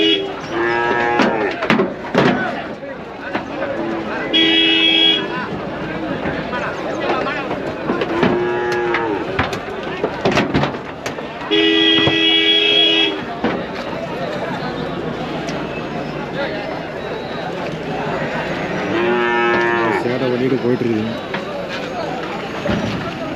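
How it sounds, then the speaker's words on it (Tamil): Native cattle with a calf at a busy cattle market in Vaniyambadi, lowing in several loud moos spread through the recording, with people talking and market bustle underneath. "அதுதான் ஒரு மூணு நாட்டு மாடுங்க ஒரு கண்ணுக்குட்டியோட வந்திருக்கு"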